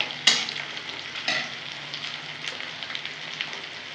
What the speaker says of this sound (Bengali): লাল লাল করে পেঁয়াজগুলো একটু ভেজে নেব।